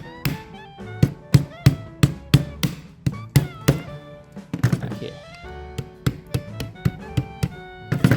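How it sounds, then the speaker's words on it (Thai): Plastic casing of a Chinese-made battery pack being knocked with a hard tool to crack it open, a steady series of sharp, close thunks at roughly two per second, with a brief irregular cluster midway. "แบตจีนนะมันเลยเคาะอย่างนี้ก็หักนะครับพลาสติกมันหักง่ายมาก"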